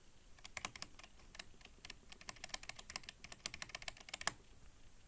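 Sharp, quiet taps on the stabilized keys of a DrunkDeer A75 keyboard with PBT keycaps, a steady run of clean clicks with no rattle, close and alone.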